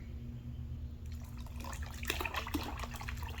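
Hot water pours into a fertilizer bucket, a splashing, gurgling rush that starts after a quiet second and continues steadily, fairly close, with no talk.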